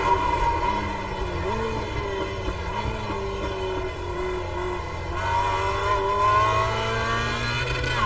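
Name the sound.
Mazda MX-5 race car engine accelerating through gears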